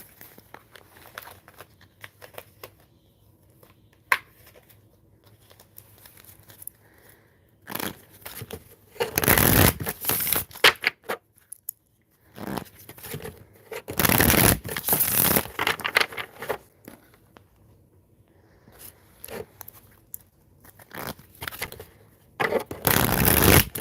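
Tarot cards being shuffled by hand, bursts of riffling and sliding card noise coming in uneven clusters between quiet pauses, close and fairly loud.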